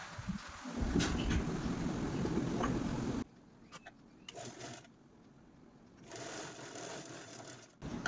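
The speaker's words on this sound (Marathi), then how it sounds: "इकडच्या साईडने पण हा झेपचा दुसरा पार्ट आहे तो आपल्याला स्टिच करून घ्यायचा आहे" Sewing machine stitching a zipper onto fabric for a small purse, a close whirring run of rapid stitches, then a pause and a shorter second burst.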